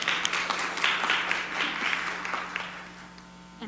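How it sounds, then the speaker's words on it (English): Town hall audience applauding for a new community hospital delivery unit, a moderately distant round of clapping that stays steady, then thins out and fades toward the end. "I think that deserves a round of applause."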